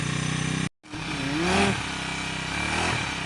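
A new brush cutter fitted with a blade starts up after a brief silence, then its small two-stroke engine runs steadily at a buzzing, revving pitch, loud and close.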